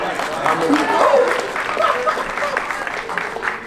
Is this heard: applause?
yes